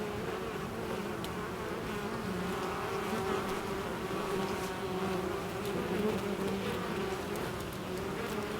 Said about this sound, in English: The bees are doing great.